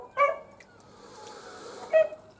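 Two short, faint dog barks or yips, a couple of seconds apart, off at a moderate distance in an otherwise quiet snowy setting by a river.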